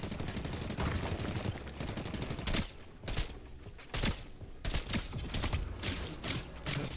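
Gunfire in the video game Fortnite crackles in rapid bursts and scattered single shots, loud and close, with no talk over it.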